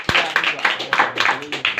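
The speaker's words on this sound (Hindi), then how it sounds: "भाई बच्चों के लिए एक बार जोरदार ताली" Audience clapping for children at a religious gathering, a series of sharp rhythmic claps in quick bursts, fairly close and loud, with some voices mixed in.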